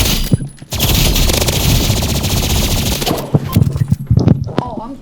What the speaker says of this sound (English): I'm killing you with sniper now, boy.